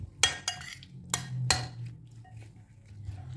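Chopped capsicum, onion and deseeded tomato cubes being mixed in a bowl: a few sharp clinks and scrapes of a utensil against the bowl, close and quiet, then softer stirring.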